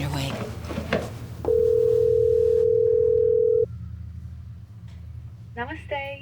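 A phone call gives a single long, steady electronic tone lasting about two seconds before a voicemail greeting, with voices heard before and after it.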